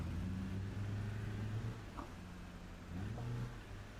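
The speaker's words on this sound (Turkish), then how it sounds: "Yalnız aracın sesi ciddi anlamda çok iyi." A passenger minibus engine in a driving video game, set on a steep, dangerous mountain road, hums at a steady low rumble that dips slightly and then rises again, fairly faint, with no talking.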